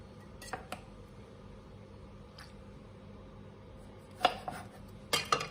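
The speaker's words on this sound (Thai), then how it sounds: "เราก็จะหั่นเขาเป็นสี่ส่วนนะคะ" A few quiet knife clicks against a board, then a cluster of sharper chopping taps near the end as a large tomato is cut into quarters, close and unaccompanied by speech.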